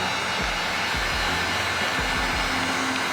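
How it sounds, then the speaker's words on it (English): A heat gun blows a steady, close, loud rush of hot air while shrinking the back window of a Corvette, with no talk. "I point the heat gun about a ½ inch to an inch past where the fingers start"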